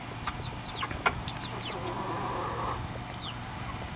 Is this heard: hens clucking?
yes